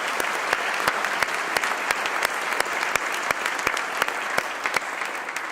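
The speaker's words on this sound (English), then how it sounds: "Let's give a round of applause to our endowed chairs." Applause from a convocation audience honoring university endowed chairs, a broad continuous patter of many hands with a few sharper claps standing out, moderately loud and steady.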